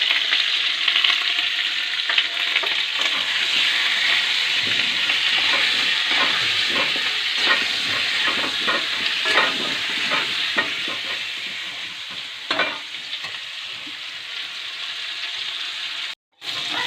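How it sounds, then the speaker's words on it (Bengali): Potatoes seasoned with salt and turmeric sizzle steadily in a hot pan while a spoon scrapes and stirs them in irregular strokes, a constant close frying hiss under the clatter. "যে আলুগুলো আমার ভাজা হয়ে গেছে"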